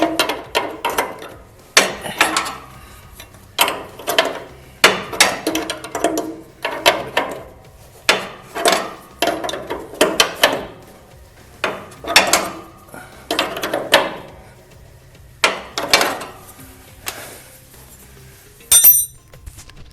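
A ratchet wrench works on a Ford 8N tractor during a radiator hose block heater install, giving repeated short bursts of metallic clicking, each a quick run of ratchet ticks, with pauses between strokes and no talking.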